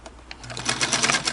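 Singer 221 Featherweight sewing machine stitching through layers of cotton on its longest stitch, a fast, close mechanical chatter building quickly to a steady rhythm.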